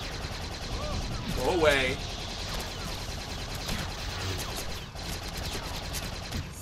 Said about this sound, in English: Full auto with a Gatling gun